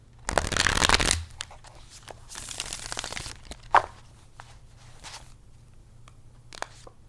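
A deck of tarot cards is riffled in a loud burst, then shuffled again with a softer, longer rustle, followed by scattered taps and card flicks nearby.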